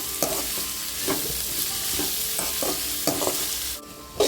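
Bitter gourd sautéed until crisp in a pan for Kongu-style pavakkai thokku, with a steady close sizzle and repeated scraping stirs at a loose rhythm, then a brief quieter moment before the stirring resumes.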